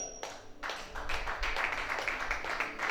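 A church congregation claps in applause during a Sunday service, a dense burst of many hands with a fast, uneven rhythm that holds steady and close throughout.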